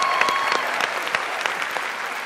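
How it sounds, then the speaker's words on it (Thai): A studio audience on a Thai show for people over sixty claps in approval, a moderate wash of applause in which individual hand claps stand out as sharp, uneven snaps. "วันนี้ผมต้องขอปรบมือและขอยกย่อง"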